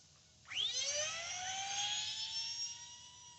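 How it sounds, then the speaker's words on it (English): An E-flite 30mm Me-262 radio-controlled jet spools up to full power for takeoff: a sudden loud whine at half a second rises sharply in pitch, then holds as a steady, rich high-pitched ducted-fan roar, close and continuous, with no talking. "Very nice, very solid takeoff with that safe mode on."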